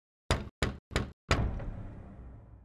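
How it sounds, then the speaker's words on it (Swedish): Four firm knocks on a door, the first three evenly spaced and the fourth louder with a lingering reverberant tail, sounding close and alone with no talk. "det knackar på dörren"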